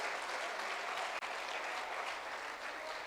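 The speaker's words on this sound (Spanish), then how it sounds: "Si le va a dar ese aplauso al Señor, déselo con alabanzas" A church congregation applauds during a sermon, producing a steady, even wash of clapping from a sizeable crowd at moderate distance that continues without talk.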